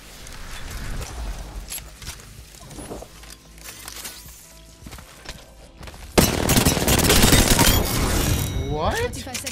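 Gunfire rattles through an Apex Legends Season 12 match in rapid automatic bursts, moderately loud. It grows denser and louder in the second half, with other game sounds mixed in.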